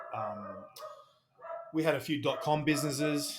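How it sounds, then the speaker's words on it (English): A pet dog barks and yips in the background at home, a few short barks mixed under someone talking steadily. "That's my dog, if you can hear a dog barking."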